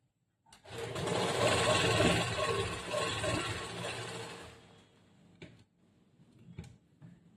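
A sewing machine stitches lining and main cloth together in one fast, continuous run of about four seconds, then stops, followed by a few sharp clicks and handling knocks.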